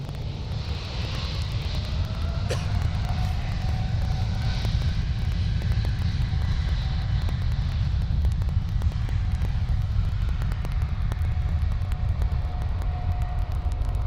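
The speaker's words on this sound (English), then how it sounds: "let's watch this KLM 777 take off" A KLM Boeing 777 on flight 643 to JFK takes off from Amsterdam airport, with a steady, loud broadband engine roar and low rumble running through all fourteen seconds. A faint tonal whine sits in the mix, and no one talks.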